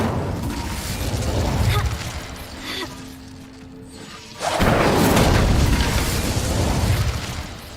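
A fiery Incendio spell bursts from a wizarding video game, a sudden loud whooshing blast that swells halfway through and roars on for several seconds after a quieter, rumbling lead-in.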